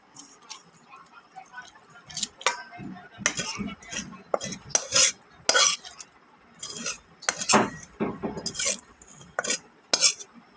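Cooked water lily stems, tempered with mustard seeds, are tipped from the cooking pan into a serving bowl, giving irregular close-up clinks, scrapes and knocks of utensils against cookware with brief quiet gaps between them.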